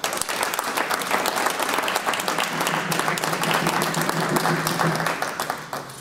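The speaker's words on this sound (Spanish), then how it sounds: "pedimos un fuerte aplauso para todos ellos." A loud, full round of applause from an audience at a music week concert event, dense rapid clapping sustained throughout and tapering slightly at the end.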